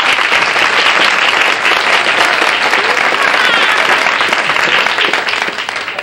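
A television studio audience gives a full round of applause for Martha and the Vandellas, dense and loud, sustained evenly before tapering slightly at the close.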